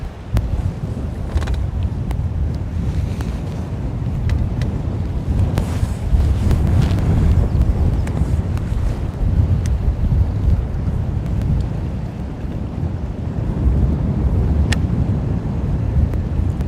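Strong wind gusting across open water from a boat while bass fishing, heavy blustery roar buffeting the microphone continuously, no voices.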